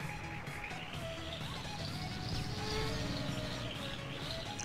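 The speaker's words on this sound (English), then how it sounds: "Oh, I crashed." A car in a video game crashes with a crunching impact amid a steady engine roar, followed by scraping and swelling noise that carries on under the rumble.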